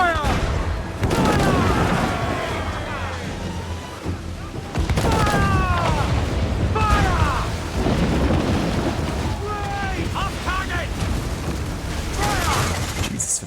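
Ship cannons fire during a naval battle in the video game Assassin's Creed, heavy booming blasts landing in bursts over rumbling sea noise, with shouted voices mixed in.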